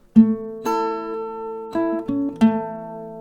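An acoustic guitar plays the D part of a song: five plucked notes and chords at an unhurried pace, each ringing on with clear sustained tones, close and alone.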